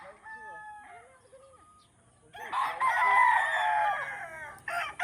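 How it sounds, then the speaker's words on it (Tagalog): Chickens and a rooster in backyard coops, with a loud drawn-out crow rising near the middle over scattered clucks and softer calls, then a brief second crow at the end. "mga manukan ko yan dito ha"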